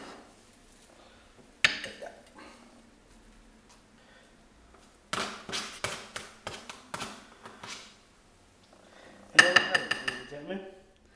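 A metal spoon clinks and scrapes against a dish while scooping out homemade shepherd's pie, with a single knock first, then a cluster of quick clattering taps and a final burst of scraping clinks.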